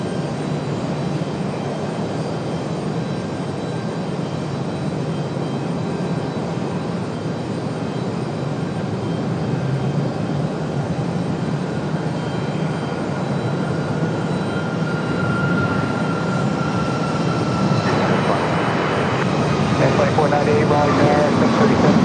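A Boeing 737 airliner lands at Raleigh Durham airport with a continuous loud engine roar that swells and rises in pitch toward the end, while a voice talks over it.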